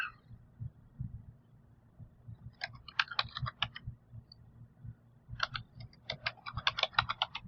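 Typing on a computer keyboard comes in two bursts of quick, close clicks, quiet and alone over a low, throbbing hum.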